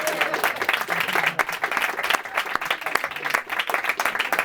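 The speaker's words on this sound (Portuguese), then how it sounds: "eu vou pedir aplausos para Cavi Borges," An audience claps for Cavi Borges at a film masterclass, lively sustained applause with distinct individual claps and a faint voice or two under it.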